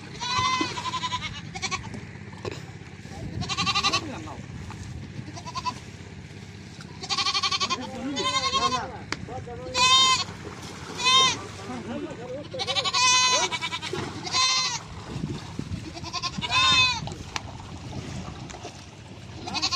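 Goats bleat repeatedly at close range as they are carried onto a trawler boat, several calls rising over a busy background of people talking.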